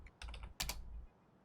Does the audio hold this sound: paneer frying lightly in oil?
no